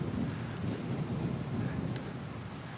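Thunder from a lightning storm outside rumbles low and continuous, with a steady wash of rain over it throughout.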